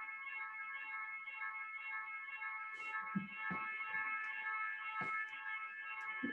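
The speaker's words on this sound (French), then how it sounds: "l'alarme incendie qui vient de se déclencher à l'école" A school fire alarm sounding continuously as a steady, harmonic electronic tone at moderate distance, with occasional thumps and knocks from the room beneath it.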